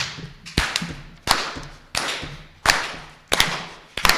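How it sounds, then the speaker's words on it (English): A congregation at a Unitarian Sunday service claps together in a steady beat, sharp unison claps roughly every two-thirds of a second with a soft room echo between them. "All right, and let's clap together."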